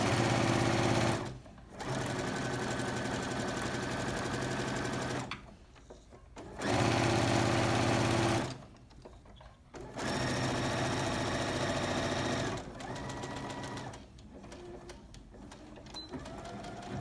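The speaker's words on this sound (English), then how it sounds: "I'm going to go ahead and sew that in." Sewing machine stitching a petersham-covered waistband at a 1/4 inch seam with backstitching, running in steady loud bursts that stop and restart several times, with short pauses between runs and a quieter stretch near the end.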